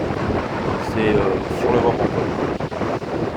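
Strong sea wind buffets the microphone on the Brittany coast, a loud rumbling roar with gusts, while someone talks over it in French.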